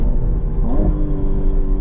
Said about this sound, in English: you get absolutely insane exhaust noise